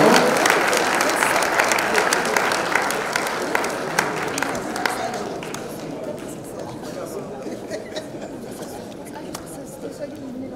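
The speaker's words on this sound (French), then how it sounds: "On applaudit bien fort." Audience applause at a French-language school competition ceremony at intermission, loud at first and tapering off, mixed with crowd chatter and voices.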